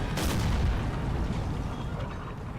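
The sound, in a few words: enemy cannon fire in video game Empire: Total War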